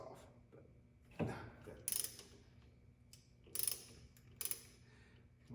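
Steel bolts on the aluminum thermostat housing of a 1996 Miata being loosened with a ratchet, giving a few separate close clicking and creaking bursts against a quiet garage background.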